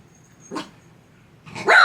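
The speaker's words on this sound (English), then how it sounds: "He heard a dog outside." A dog barks indoors at something outside, a short muffled woof followed by a louder, sharper bark close by.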